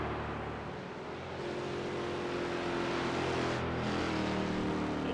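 Heavy Mustang race cars in iRacing at Lime Rock Park, a continuous loud engine roar held at high revs with layered exhaust tones from several cars running close together.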